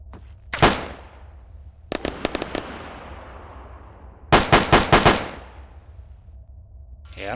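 Carbine fire in the Arma 3 video game with a World War II mod, sharp loud shots in quick bursts, single shots then a fast volley, each trailing off in a long echoing decay.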